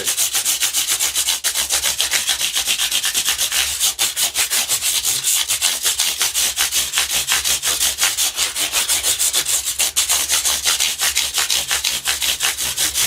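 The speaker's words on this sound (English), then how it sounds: "Now I'm using some 240 grit this way to get rid of the tooling marks." Continuous, even back-and-forth scraping of 240 grit sandpaper over stainless steel guitar frets, a steady close abrasive rasp with fast rhythmic strokes and no talking.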